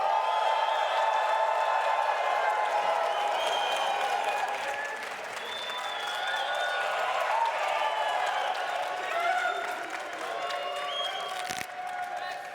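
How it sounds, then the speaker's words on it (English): A crowd applauds and cheers loudly and continuously, dense clapping with voices mixed in, holding steady throughout. "if you can just give me a loud cheer"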